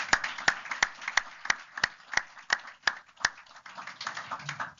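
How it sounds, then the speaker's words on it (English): Audience applause after a deep brain stimulation presentation, heard as steady, evenly spaced claps at a moderate distance that thicken into a looser patter toward the end. "So let's give them a round of applause again."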